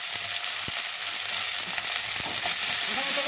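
Turmeric, salt and chili powder fry in oil in a home kitchen pan, a continuous bright sizzle with a few sharp taps of a spoon stirring against the pan.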